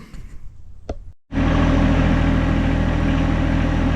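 A tractor fitted with pallet forks starts up after a brief quiet pause, then its engine runs loud and steady at a close, even idle for the rest of the clip.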